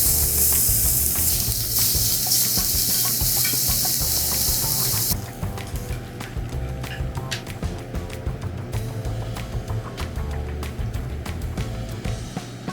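Australian wagyu hanging tender (diaphragm steak) searing in a hot pan, a loud, steady sizzle at first that drops to a softer, crackling fry with faint clatter.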